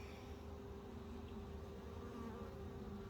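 A low, steady hum of many honeybees buzzing close by in an open hive, continuous and even, with no voices.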